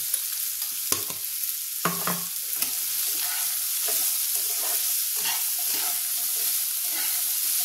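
Potatoes with a pinch of turmeric stir-fried in a pan while making stuffed vegetable paratha, giving a steady close sizzle with scraping stirring strokes.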